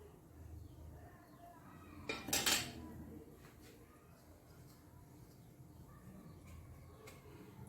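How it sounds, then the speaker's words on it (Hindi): A spoon tossing potato pieces in breadcrumbs inside a bowl, soft scraping with a short burst of louder metallic clinks near the middle, quiet and close, with faint background noise. "इसी की मदद से, चम्मच की मदद से इसको ब्रेड क्रम्स लगाऊंगी।"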